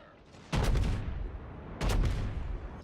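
Battleship secondary guns firing in World of Warships, North Carolina in a naval battle: two sharp, loud bursts of cannon fire about a second apart, each ringing out with a booming tail.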